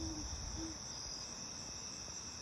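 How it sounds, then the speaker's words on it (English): A garden at night carries a soft owl hoot twice near the start, faint and distant, over a continuous high-pitched chorus of crickets. "You might hear an owl hooting in the background"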